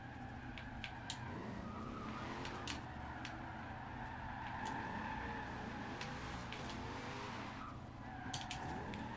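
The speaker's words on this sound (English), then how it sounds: "look at how far this car slides" A tuned car in Forza Horizon 2 drifts and slides in long arcs, its tires squealing and skidding continuously over a steady engine drone, with a few sharp higher screeches cutting in and out.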